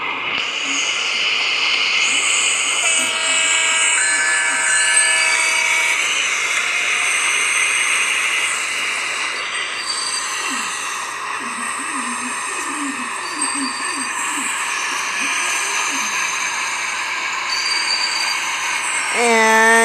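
A simulated train being driven in a train simulator video game, a steady rumbling engine drone layered with sustained whining tones, continuous and fairly loud, with a person talking over it.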